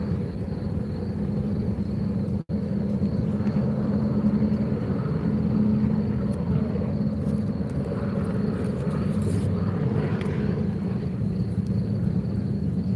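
A jet ski engine running on open water gives a loud, steady low rumble that holds for the whole stretch, with only one brief dropout and no clear rise or fall of a pass-by.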